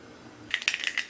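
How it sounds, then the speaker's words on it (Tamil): Mustard seeds popping in hot sesame oil while tempering for a Tamil tangy tamarind curry, a quiet pan hiss breaking into a quick run of sharp crackles and pops in the second half. "கடுகு பொரியுது."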